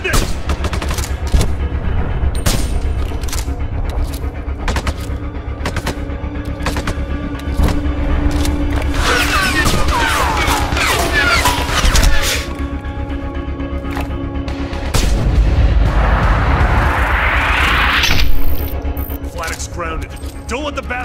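Rifle and automatic gunfire in the shooter game Sniper Ghost Warrior 2, with repeated sharp cracks and longer bursts rattling through the scene while voices call out over the shots.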